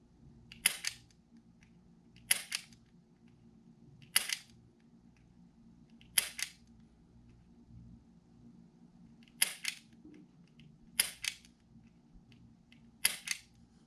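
A laser training pistol is dry-fired at a target from 15 feet, giving seven sharp, crisp mechanical clicks spaced a second or two apart against a quiet room.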